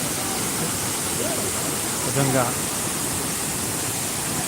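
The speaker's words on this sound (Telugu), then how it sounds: "ఆంధ్ర ఒరిస్సా సరిహద్దులోని అద్భుత జలపాతం" The Gandahati waterfall on the Andhra-Odisha border roars as a loud, constant rush of water, with a short spoken word heard briefly over it.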